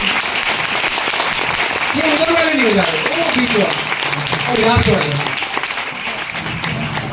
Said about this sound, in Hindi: तालियां बजाओ तो जोर का बजाओ